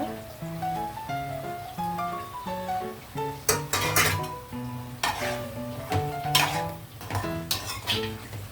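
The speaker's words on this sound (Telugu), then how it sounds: "ఇవి ఇంకా ఉడకలేదు కాబట్టి నేను ఇలా కలుపుతున్నాను" Fish curry stirred in a pan with curry leaves, green chilies and a little coriander: soft sizzling with bursts of spoon scraping against the pan, over a faint tonal melody in the background.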